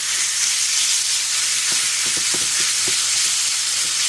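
Taco meat sizzles and fries loudly in a hot pan as a steady, dense hiss with no gaps, while scattered scraping and stirring knocks sound throughout.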